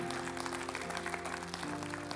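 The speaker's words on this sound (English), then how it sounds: "Give God a hand clap this morning." A church congregation claps during a morning service, the clapping sitting fairly quiet beneath sustained organ or keyboard chords in a steady, continuous patter.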